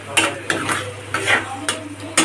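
Dried lotka fish shutki fries in a pan while being stirred. Scraping strokes of a utensil against metal come in short bursts over a soft, steady sizzle, close and fairly loud.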